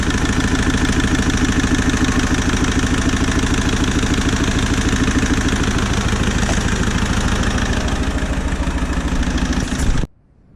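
An Iveco Daily diesel engine runs with its first cylinder dead, a loud, steady, close idle with an uneven rhythmic clatter throughout, cutting off abruptly near the end.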